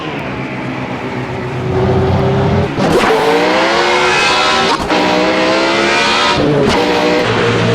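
Race car engine in a video game race revving hard and loud throughout, with the pitch rising and then dropping sharply at each gear shift, three times in close succession.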